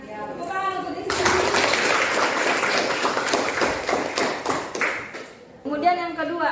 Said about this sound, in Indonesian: Ya, tepuk tangan untuk Jessica.